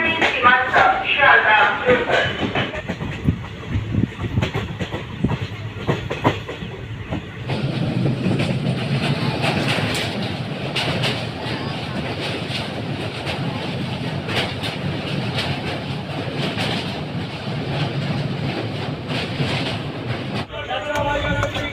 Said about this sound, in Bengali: আমাদের ট্রেন কিন্তু ছটা বেজে আঠাশ মিনিটে ছেড়ে দিল নৈয়াটি স্টেশন